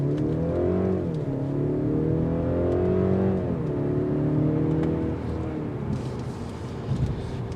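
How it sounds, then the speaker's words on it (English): A 2022 Mercedes-Benz C300 engine revs up and down several times with a throaty exhaust note, heard from inside the cabin, settling to a lower hum near the end. "You get a little bit of the exhaust note that filters in"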